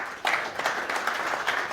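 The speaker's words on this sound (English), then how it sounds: "Who won the fight? Applause for Andrè." Applause for Andrè during a fight-judging audience vote, a brief, fairly soft patter of clapping from a modest crowd, steady across under two seconds.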